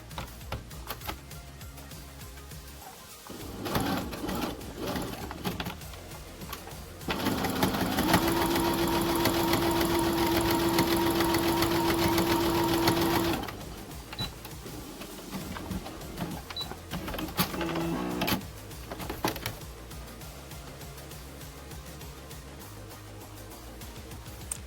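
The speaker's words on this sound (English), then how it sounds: "Make sure to backstitch at the beginning of this to lock in your stitches so they don't unravel as well." A sewing machine stitches fabric for a duck-bill face mask in one steady burst of about six seconds, loud and close. Quieter handling of cloth and clicking can be heard before and after it.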